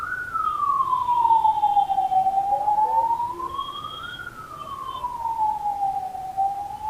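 An ambulance's wailing siren rises and falls slowly in long sweeps, fairly loud and steady, with faint traffic noise beneath and no talking.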